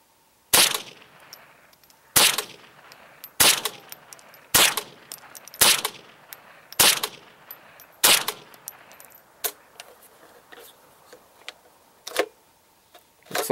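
Henry AR-7 semi-automatic rifle firing a group of shots outdoors, about nine sharp reports spaced roughly a second apart, each with a short fading tail, the last few a little quieter.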